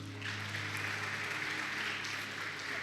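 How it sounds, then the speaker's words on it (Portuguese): A church congregation applauds during a family worship service, a steady continuous wash of clapping at moderate level with a constant low hum beneath, no voices over it. "Uma salva de palmas."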